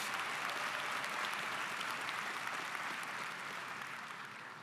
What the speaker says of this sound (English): let's give Mr. Zahner a round of applause